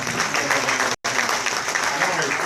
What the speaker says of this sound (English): Give a Big Dreamer one more round of applause.